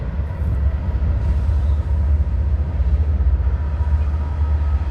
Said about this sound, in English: That's how close the train comes to Tinker Swiss Cottage.